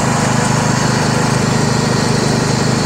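Yard Machines MTD riding mower with a 20 HP Briggs engine and CVT transmission running with the PTO mower deck engaged, a loud steady engine drone with a rapid pulsing rumble, close and constant.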